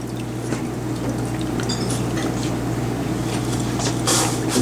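Bottom layer of methylene chloride draining out of a separatory funnel, leaving the water layer behind; a soft, steady liquid trickle with faint drips runs continuously under a low constant hum.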